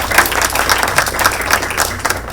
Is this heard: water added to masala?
no